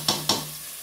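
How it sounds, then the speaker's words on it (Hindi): Ginger garlic paste frying in a pan, stirred with a spatula while cooking a chana dal lunch: two quick scraping stirs over a soft sizzle that fades away, close and fairly quiet. "अब मैं इसमें जो है वो अदरक लहसुन का पेस्ट डाल देती हूँ।"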